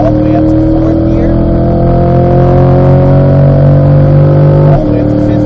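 A Corvette engine roars loud and close, its steady droning tone climbing through the gears before a brief dip near the end as the next gear engages, with no talk over it.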